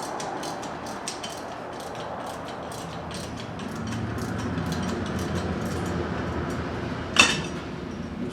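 Bolts on the flywheel of a 1995 Murray rear engine mower are tightened with a ratchet, giving a steady rapid clicking with faint metallic knocks and one sharper clank near the end, close and with no talk.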